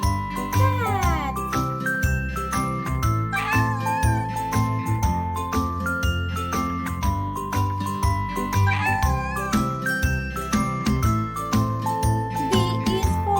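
In a children's alphabet nursery rhyme, a cat meows amid bouncy music with tinkling chimes and steady beats; the meows come in short bursts layered into the loud, busy song.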